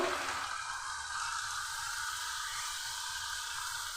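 Onion sizzling in a pan with ginger-garlic paste, turmeric, cumin and coriander powder, a steady bright hiss of frying that stays even and close throughout.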